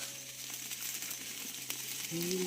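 Marinated food sizzles on a metal grill grate set over a wood-fired clay stove, a steady close crackling hiss with a low hum underneath throughout.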